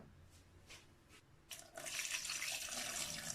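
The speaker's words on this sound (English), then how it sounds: "And then add a little bit of water." Water is poured into a cooking pot holding spinach, pepper and Maggi seasoning for Ghanaian nkate nkonto with goat meat, a steady splashing pour that starts after a few quiet moments and runs on fairly loud.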